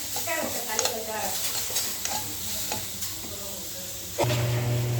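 Gooseberry rice being stirred in a pan, a steady scraping and stirring with a soft background sizzle, close and moderately loud, with a louder burst of sizzling near the end.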